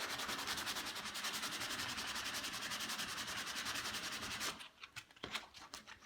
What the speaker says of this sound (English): Get your sandpaper and sand any excess off.